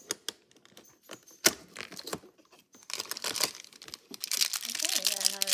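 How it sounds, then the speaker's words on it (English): A plastic bag from a Star Wars Funko advent calendar is crinkled and cut open with scissors, producing scattered crackles and rustles that grow denser toward the end, with a faint tone near the close. "These bags are kind of hard to open, so scissors are our best to use for this."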